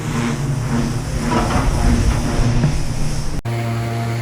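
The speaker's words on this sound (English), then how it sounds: "You'll have to excuse the noise. Very busy boatyard." Steady machinery and engine noise at a busy boatyard where a boat hull is being blasted down to its epoxy barrier coat, a loud continuous low rumble with hiss that cuts abruptly near the end to a quieter hum.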